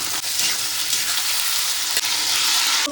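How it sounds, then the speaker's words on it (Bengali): Onions and tomatoes fry together in a pan, producing a loud, continuous close-up sizzle with a couple of brief crackling bursts and no speech over it. "পেঁয়াজগুলো একটু ভাজা পেঁয়াজগুলো ভাজা ভাজা করে নেবো"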